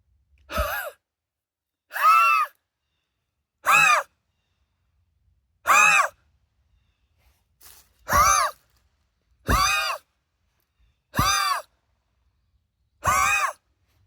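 A person imitates the alarm huff of a white-tailed deer, giving nine sharp, breathy blasts spaced about a second and a half apart, each loud and close, with silence between them.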